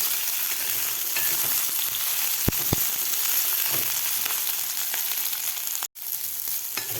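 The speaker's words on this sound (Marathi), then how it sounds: "याला हलकेसे डाग पडेपर्यंत आपल्याला भेंडी तेलामध्ये फ्राय करून घ्यायची आहे" Okra frying in oil in a pan, a continuous close sizzle with a few clicks and stirring taps, and a sudden brief dropout near the end.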